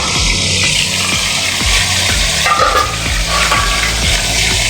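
Boal fish frying in a covered pan produces a steady, loud sizzle with faint, regularly spaced clicks underneath, and no talking.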